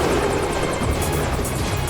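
A helicopter passes overhead with a loud, continuous rotor roar and a rapid, rhythmic blade chop that never lets up.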